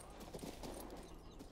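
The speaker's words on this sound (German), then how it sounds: "Pferd, seit wann kannst du keine Treppen laufen?" Horse hooves clip-clop in the King's Bounty 2 video game, a quick run of soft, close hoofbeats in an even rhythm, heard alone and fairly quiet.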